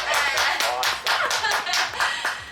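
A pair of hands claps about a dozen times in quick, even succession, sharp and close, with a faint chuckle beneath.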